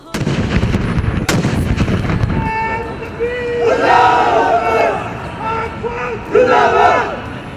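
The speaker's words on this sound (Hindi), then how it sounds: "मुबारक दिन का आगाज इस्लामाबाद और चारों सूबों में तोपों की सलामी से किया गया।" A heavy boom from an Eid Milad-un-Nabi cannon salute in Pakistan opens, followed by a crowd shouting and chanting in rising waves, all loud and close.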